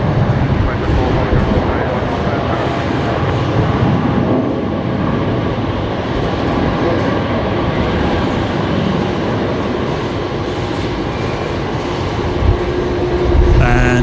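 A Velocity airliner lands on runway 19 left at Brisbane Airport, its engines a loud, continuous broadband roar that holds steady throughout and swells briefly near the end.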